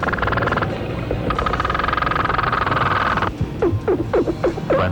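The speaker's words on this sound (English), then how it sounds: "The croaker fish as he grinds his teeth." Underwater croaking from a croaker fish grinding its teeth: a rough, droning grind with a steady tonal buzz, then several quick rasping pulses near the end.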